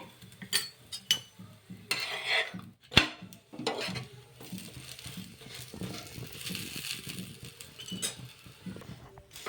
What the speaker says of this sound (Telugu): ఇలా రెండు వైపులా కూడాను ఈ పరాటాని బాగా కాల్ చేసుకోవాలి